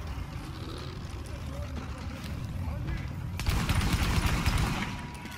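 Rapid gunfire crackles in The Division during a Falcon Lost raid, bursts of shots overlapping into a dense fusillade that grows louder midway, with a player's voice talking under it.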